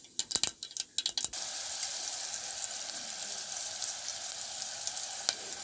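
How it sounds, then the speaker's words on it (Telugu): Onions hitting hot oil in a tempering of mustard seeds and cumin for aloo palak curry, a few sharp crackles and pops at first, then a steady close sizzle throughout. "ఆనియన్స్ వేసుకుందాం."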